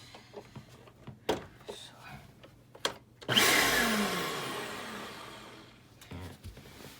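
A few clicks and knocks, then a Eureka AirSpeed multi-cyclonic vacuum cleaner motor roars to life loudly and runs with a high whine that slowly eases off before cutting out.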